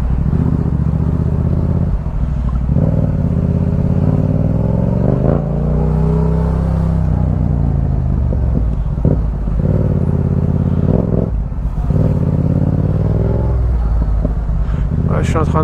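A motorcycle rides through congested traffic behind a truck, with loud engine rumble and revs rising and falling close by, and someone talking over it throughout.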